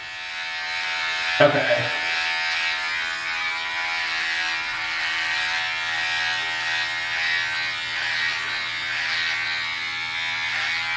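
A beard trimmer buzzes steadily while trimming a chin, a close, continuous electric drone with a brief thump near the start. Someone speaks briefly over it.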